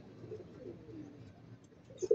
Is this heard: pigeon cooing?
yes